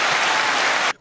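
Crowd applause at a fishing gathering, a dense steady wash of clapping that carries on loudly and then cuts off abruptly near the end, with no talk over it.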